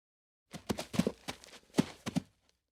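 Several soft donkey hoof clops at an uneven walking pace, close and fairly quiet, with no talking.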